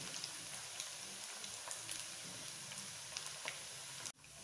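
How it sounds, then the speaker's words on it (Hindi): Rice pakora frying in oil over a medium gas flame, a steady close sizzle with crackling pops throughout, ending in a sudden knock. "मैं भी अच्छी तरीके से इसको फ्राई कर लूँगी।"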